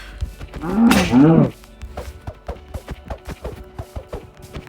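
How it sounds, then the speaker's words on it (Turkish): Cattle moo nearby in one long, loud call, followed by a regular run of sharp knocks or chopping sounds in the background. "İnekler."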